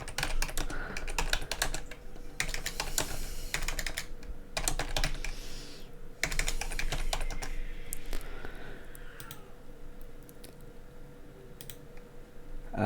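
Fast typing on a computer keyboard while writing HTML code, a dense, close patter of key clicks in bursts with brief pauses, no speech.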